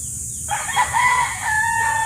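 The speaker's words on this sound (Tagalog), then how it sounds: "Ayan, nagpapadami tayo ng native na manok" A native rooster crows once nearby, a long drawn-out call over a steady high background hiss.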